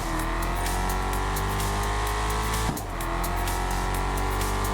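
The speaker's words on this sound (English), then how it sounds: "The sounds the cars make are good." A car engine in the racing video game Test Drive Unlimited: Solar Crown hums loud and steady, holding a constant tone with a brief dip partway through, with no talk.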